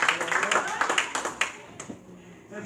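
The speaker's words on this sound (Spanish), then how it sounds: "¿Cuánto dan ese aplauso al Señor?" A church congregation claps during a worship service, a dense patter of hands that is strongest at first and then thins and fades within a couple of seconds, with a voice present alongside.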